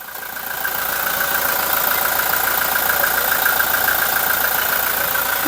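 A 2017 Toyota Hilux Revo Smart Cab with a 2.4-litre turbo diesel engine idling, a steady, even mechanical hum with a faint diesel clatter, close and constant.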